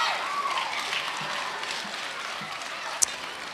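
Audience applause at a school spelling bee, a steady broadband wash of clapping from a crowd lasting throughout, with a sharp click near the end.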